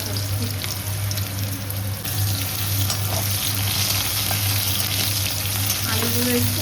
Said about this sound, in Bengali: কালো জিরে ফোড়ন দিলাম, কাঁচা লঙ্কা দেবো